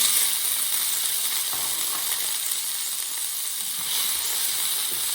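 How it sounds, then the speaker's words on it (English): Tomatoes tossed into a hot pan with browned potatoes over turned-up heat give a steady, bright sizzle that stays fairly loud and even throughout, with no voices. "we just need to fry these just literally until they're blistered"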